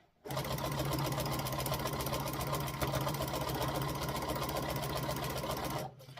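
A sewing machine quilting long straight lines through a quilt sandwich runs in one continuous steady burst of rapid, even stitching for about five and a half seconds, close and loud, then stops abruptly.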